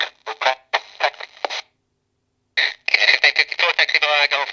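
AM aircraft transmission received on a Quansheng UV-K5 handheld radio: loud, distorted, crackly voice bursts in two stretches separated by a brief silence.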